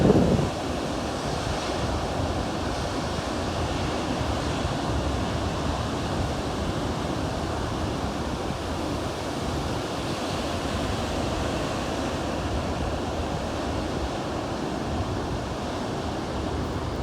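Steady roar of ocean waves breaking on a beach behind dunes, continuous and fairly loud with wind buffeting the microphone throughout and no talking.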